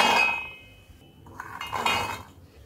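Fresh green peas rattle and clink against a mixer grinder jar in two quick pours, close by, with no talking.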